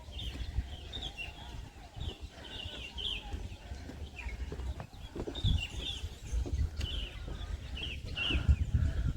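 Small birds chirp in repeated short bursts at a distance, over a low outdoor rumble and ambient noise, in the Dieng highlands of Wonosobo, Indonesia.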